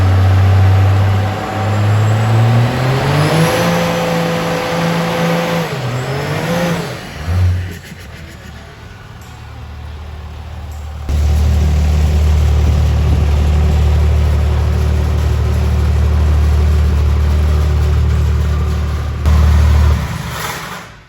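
A vehicle engine revs and accelerates up through the gears, eases off, then settles into a loud, steady low rumble as it rolls into a shop, with a final brief burst before cutting out.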